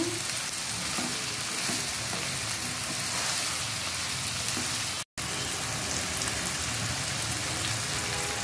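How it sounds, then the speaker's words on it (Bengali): Mixed vegetables with chopped tomato and green chili sizzle steadily in a frying pan while being stirred, a close, constant crackling hiss with scraping strokes and a brief cut near the middle, without any voice. "ভালো করে নেড়ে মিক্স করব"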